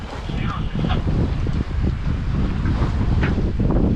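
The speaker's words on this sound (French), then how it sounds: "On a du vent" Steady wind buffeting the microphone at sea aboard a boat, a constant loud rushing roar with faint background noise.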